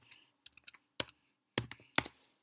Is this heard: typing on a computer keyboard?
yes